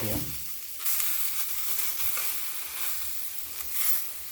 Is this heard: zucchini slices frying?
yes